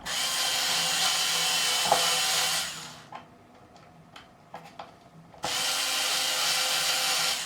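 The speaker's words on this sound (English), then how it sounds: "I'm just going to half get these screws in" A power driver running screws partway into a guitar neck during a Jaguar/Jazzmaster-style build, two long loud whirring bursts separated by a quieter gap of small clicks and taps, with no voices.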